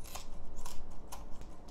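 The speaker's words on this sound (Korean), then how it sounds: "가위가 훨씬 편하네" Kitchen scissors snip through dried, washed sea eel in three or four crisp, crunchy cuts spaced about half a second apart, close and clear with no talking.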